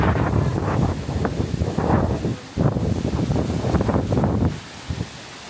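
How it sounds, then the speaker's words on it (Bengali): Strong gusting wind buffets the microphone in heavy, roaring surges just before rain in a rural village, loud and continuous with a brief dip midway, and no voices. "বৃষ্টির চেয়ে বাতাস বেশি।"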